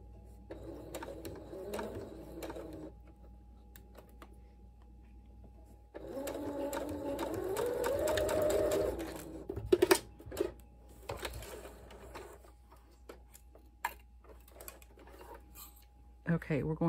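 Sewing machine stitching the sleeve of a dress shirt, running in a steady mechanical whir near the start, louder and longer from about six to nine seconds, with quieter handling noises and brief gaps.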